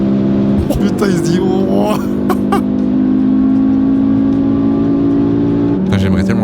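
A BMW M3 at speed on a race circuit overtakes with a loud, sustained engine drone among other cars, the pitch shifting as it passes, while people talk excitedly over it.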